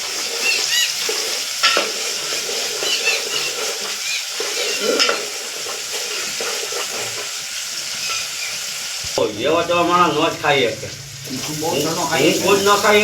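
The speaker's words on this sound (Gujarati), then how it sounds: "તો સંતો આ રીતે શાક વઘારતા હોય તમને બતાવું છું" Vegetables being tempered in hot oil in a simple cook's kitchen, with a steady sizzle and stirring running throughout, and a louder, bubbling surge of frying near the end.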